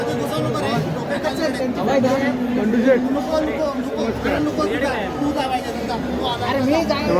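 Dense crowd chatter at a Pir Baba dargah fair, many overlapping voices in a continuous close hubbub with no single voice standing out.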